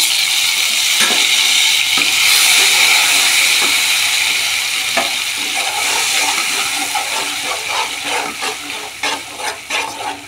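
Ground cumin, coriander and dried chili paste fries in a pan as it is stirred, giving a loud, close, steady sizzle and hiss with repeated scraping strokes and clinks. No one speaks.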